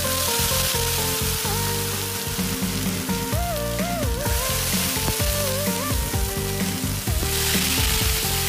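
Kidney beans frying in a large wok over a rural kitchen fire, a loud, steady sizzle with bursts of crackling and scraping stirs, running continuously throughout.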